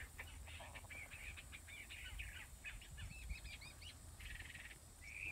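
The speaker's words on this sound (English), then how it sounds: "That was turtle dove." A turtle dove calls from somewhere up in trees, soft repeated purring phrases heard at a distance over faint outdoor ambience, with other small bird chirps mixed in.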